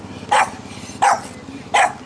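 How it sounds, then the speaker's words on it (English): A dog outdoors in Morocco barks three times at steady intervals, each bark sharp and fairly close, with quiet background between. "dog."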